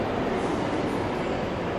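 A train at Roma Termini station in Rome fills the hall with a continuous broad rumble and hiss that holds steady at moderate loudness throughout, with no speech.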